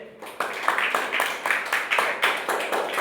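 A small group of schoolchildren clapping in a steady, fairly rapid rhythm for a few seconds in a classroom, moderately loud and close.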